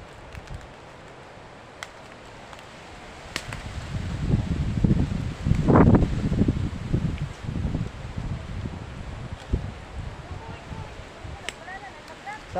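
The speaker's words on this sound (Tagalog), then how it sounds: "Ayun ang hangin pa uli." Wind gusts through rambutan tree leaves, building to a loud rustling surge midway before easing into a softer, uneven rustle.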